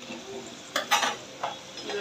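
Banana and potato fries, coated in egg and flour, sizzle in hot oil with a steady low hiss, broken by a few short scraping stirs and utensil clinks near the pan.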